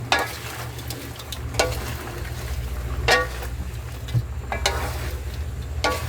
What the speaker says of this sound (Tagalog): Sabay haluin.